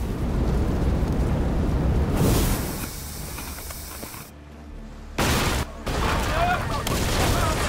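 Cannon fire and explosions in the Assassin's Creed Odyssey video game, a dense, loud roar of booms and hissing blasts in sustained waves with brief lulls, over battle noise and speech.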